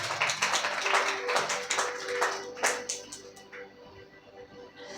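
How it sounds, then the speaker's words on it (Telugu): A church congregation claps loudly together, a dense burst of applause that fades out after a few seconds. "గట్టిగా చప్పట్లు కొడదాం."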